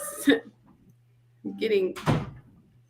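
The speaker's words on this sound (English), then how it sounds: "that door just slammed" A door slams once indoors, a short heavy thud between stretches of someone talking, with a low steady hum underneath.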